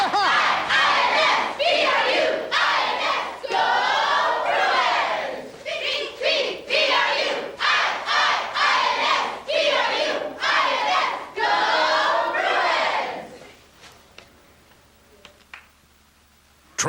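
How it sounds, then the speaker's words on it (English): A high school band and cheer squad chant and shout in unison at a football game, a loud rhythmic crowd cheer in repeated bursts that cuts off near the end. "the Trevor High Band and cheer squad in the house"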